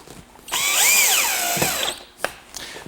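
A power drill drives a pocket hole screw into wood, a single steady whine that rises and dips in pitch for about a second and a half, followed by a couple of short clicks and taps.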